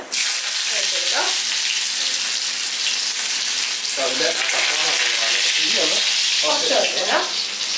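Chopped ginger frying in hot oil for a mushroom lentil curry, a loud continuous sizzle throughout with faint voice-like murmurs and light stirring beneath it.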